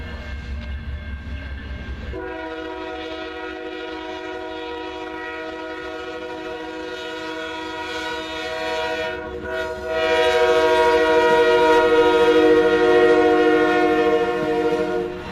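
CSX and NS freight train with an ET-44 locomotive passing in Bridgeport, Alabama: a long, loud, chord-like horn blast that swells and grows louder toward the end over a low engine rumble.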